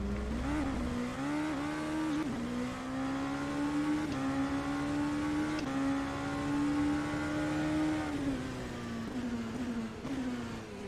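A Ligier JS P217 LMP2 prototype race car in rFactor 2 drives a wet Spa circuit, its engine droning at a steady high pitch with brief dips at gear changes, continuous and alone.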